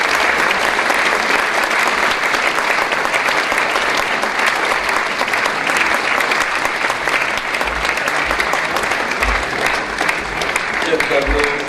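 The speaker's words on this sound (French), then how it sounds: "je crois qu'on peut applaudir tous les lauréats maintenant ensemble sur ce plateau." A studio audience applauds the award winners gathered on stage at a Polak Roku awards ceremony, with loud, continuous clapping that stays thick and unbroken from start to finish.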